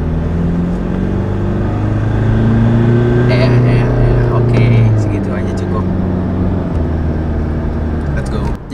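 Porsche Macan accelerating on a busy toll road, a steady loud engine and road roar with rising tones heard from inside the cabin as the revs climb.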